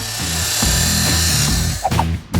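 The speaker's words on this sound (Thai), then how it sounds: "แต่เปลือกมันหนามาก ต้องเลื่อยได้เลื่อยไฟฟ้า" An electric saw grinding against the thick shell of a giant toy egg, a loud continuous buzzing drone with brief interruptions and a couple of sharp scraping bursts near the end.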